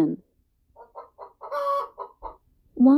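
A hen clucks in a quick series of short, moderately loud notes, rising into a longer drawn-out cackle, with a louder squawk at the very end; no other sounds.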